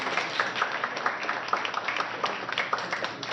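Audience applause at a candidates' forum for a county House of Representatives district race, a steady dense patter of many hands clapping throughout, moderately quiet and with no talk over it.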